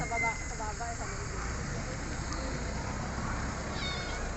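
A kitten up a tree mews in short, high cries near the start, faint against a steady outdoor hum, with people talking quietly nearby.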